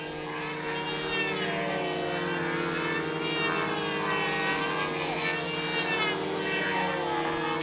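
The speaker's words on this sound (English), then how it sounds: "Very pretty plane." A model propeller airplane flying at a windy outdoor contest field, its engine a steady buzzing drone that wavers in pitch as it passes, continuous and fairly loud with no talk.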